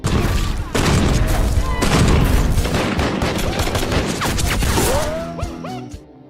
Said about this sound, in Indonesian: memperlihatkan Bishop yang selalu mengajari Steve cara menembak.